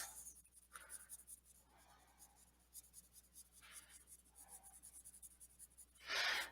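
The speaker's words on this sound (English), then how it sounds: "I'm extending out from the dark area with a medium colored pencil, which is this forest green" Colored pencil in a forest green shade scratching on paper, soft faint strokes in short bursts with quiet pauses, ending in one louder, brisker scribble.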